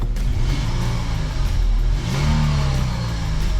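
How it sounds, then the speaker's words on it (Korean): Hyundai Aslan used car engine running with a rough, trembling vibration, heard up close as a steady low rumble that keeps going with slight dips in level, no talk over it. "엔진 떨림이 있습니다."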